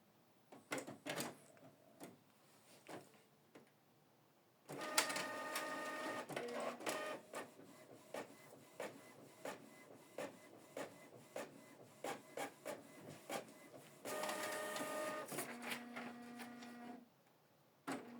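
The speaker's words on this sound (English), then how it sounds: "this is a test print to show you that the printer is now ready to print" A Canon MG3650 inkjet printer prints a test page, with a busy run of mechanical clicks, whirring carriage passes and rasping paper feed in bursts at close range.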